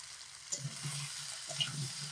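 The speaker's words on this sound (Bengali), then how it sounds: "লবণ আর হলুদ দিয়ে সুবড়ি আলুটা একটু ভেজে নেব" Potatoes frying with salt and turmeric: a low, steady sizzle with faint stirring movements, quiet and close, with no voices.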